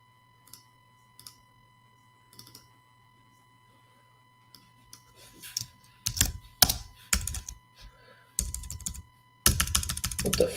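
Keys on a faulty computer keyboard tap sparsely at first, then build into louder, denser bursts of clicking over a steady faint electronic hum, with no voices.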